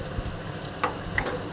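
Spices for an okra tamarind stew's tempering sizzle in hot oil, with dried red chillies among them, a soft steady fizz with a few faint ticking crackles, close and alone.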